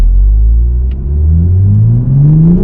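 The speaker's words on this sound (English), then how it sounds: "we had a bit of a delay until that turbo spooled up" A 2024 Toyota GR Supra 3.0 Premium accelerates hard, its deep engine drone rising smoothly in pitch as the turbo spools up, loud and close from inside the car.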